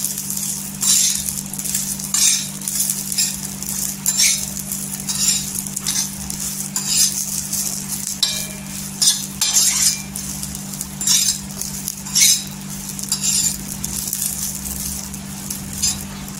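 Garlic and cumin roast in a hot pan for Marathi mirchi thecha, sizzling loudly and steadily up close while a utensil repeatedly scrapes and clinks against the pan, with no talk.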